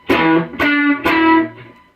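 Three punchy distorted electric guitar stabs from a riff, muted lower strings keeping the notes tight, each ringing briefly before being cut, played close with no talking.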